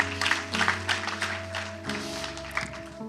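Church congregation claps in a rhythmic burst of applause with sustained organ or keyboard chords underneath, moderately close and fading slightly toward the end.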